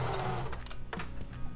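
A sewing machine fitted with a stitch-in-the-ditch presser foot runs briefly, a close mechanical whirring chatter of rapid needle strokes lasting just over a second.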